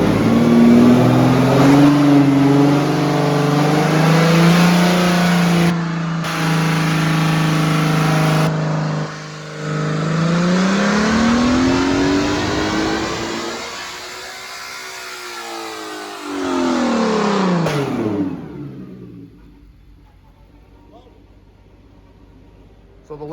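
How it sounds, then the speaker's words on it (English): A 2016 Ferrari V12 in a 1968 Ferrari P4 replica running on a dyno, loud sustained engine drone rising and falling with throttle changes, swelling to a high rev before dropping back to idle. "So the last bit here was just driving it around on the dyno, looking for holes in the map, or, you know, move the throttle to all different positions"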